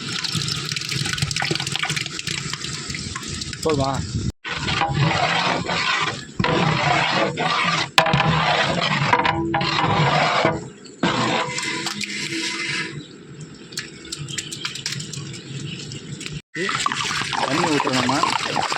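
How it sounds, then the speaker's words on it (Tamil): Water pours continuously into a large biryani pot for a 20 kg chicken biryani, a loud gushing splash with brief pauses, while people talk over it. "தண்ணி ஊற்றுறோம்."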